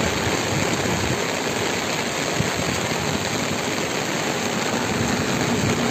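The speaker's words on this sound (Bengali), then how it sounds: "বৃষ্টির মধ্যে ট্রেন ছুটে চলেছে," A train runs through heavy rain on an overcast day. A steady, broad rumble blends with constant rain hiss for the whole stretch, even and unbroken, with no voices.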